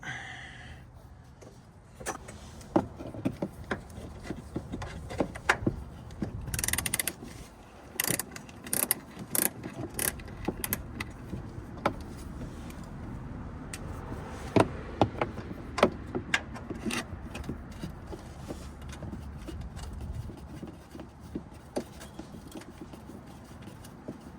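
Ratcheting and metallic clicks from a thin socket loosening a front fender bolt on a Jeep Wrangler JK, a close, irregular series of short clicks and taps with brief pauses, no talking.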